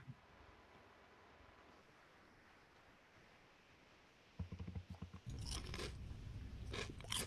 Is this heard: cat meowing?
no